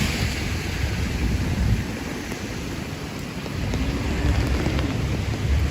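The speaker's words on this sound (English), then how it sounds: "it's raining" Rain falls steadily on a Manhattan street during a nighttime storm, a broad, even hiss with low rumbling wash underneath, with no voices.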